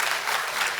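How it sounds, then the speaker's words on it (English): An audience at a memorial award and lecture event welcomes a panelist to the stage with a short, even burst of many hands clapping. "the audience to please welcome her with a round of applause"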